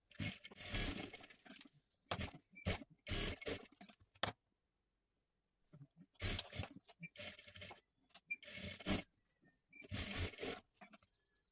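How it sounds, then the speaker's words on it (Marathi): A sewing machine double-stitches the shoulder seam of a girl's blouse in short bursts of rapid close-up whirring, with gaps of silence between runs and a longer burst near the end. "अशा पद्धतीने इथे डबल शिलाई मारून घ्या."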